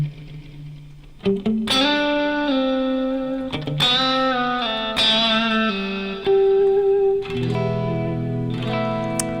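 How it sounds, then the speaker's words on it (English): An electric guitar runs through a Plex delay effect, its loud sustained notes and chords smeared with echoing repeats and a reverb-like wash, several phrases following one another. "So here's what that sounds like. The Plex delay."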